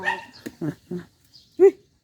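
Small dog barking in a home, a few short sharp yaps spaced across two seconds, the last one loudest and close, with quiet pauses between and no talking.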